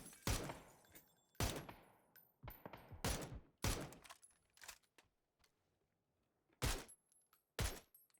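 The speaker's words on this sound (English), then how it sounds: "More shots coming out, trying to disable that tire." Gunshots in PUBG, a series of about ten sharp, separate cracks at irregular intervals with short echoing tails and quiet gaps between them.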